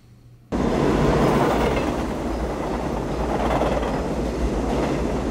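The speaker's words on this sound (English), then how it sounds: "Oh, I thought there was the train sound" Train sound from the 1994 film The River Wild: a dense, loud rumble of rolling rail noise that kicks in abruptly after half a second of quiet and holds steady to the end.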